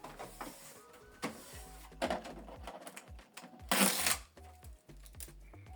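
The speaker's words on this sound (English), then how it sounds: "once you switch the printer on, the ink cartridges will move from the right, the holder will move from the right" A Canon PIXMA TS4150 inkjet printer powers on and its ink cartridge holder shuttles across from the right, producing a series of close mechanical whirs, clicks and clunks in uneven bursts.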